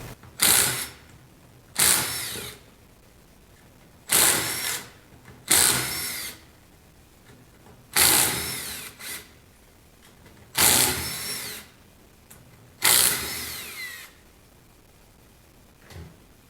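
A drill cuts into the cast back cover of a truck AC compressor during tapping of a high pressure port, sounding in seven loud whining bursts of one to two seconds separated by short quiet gaps, with no talking.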